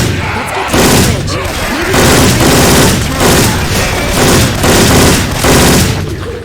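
Syphon Filter-style weapon gunfire in Left 4 Dead 2: repeated loud bursts of shots in rapid, rhythmic volleys over roughly six seconds, close and punchy, with in-game ambience.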